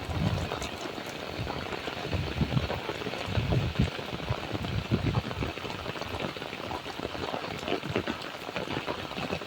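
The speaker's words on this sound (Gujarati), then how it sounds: "એવો વરસાદ જામી ગયો છે કે વાત કરો ને એવો વરસાદ" Dense, continuous patter of a torrential downpour pouring down and drumming on surfaces, steady for the whole stretch.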